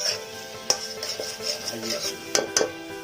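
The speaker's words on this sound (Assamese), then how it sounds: "পিঁয়াজ আদা নহৰু দিছোঁ ইয়াৰ পিছত সুন্দৰভাৱে এইখিনি আমি ভাজি আছোঁ" Onion, ginger and garlic fry in a pan while a utensil stirs and scrapes, giving soft sizzling under several sharp metallic clinks against the pan.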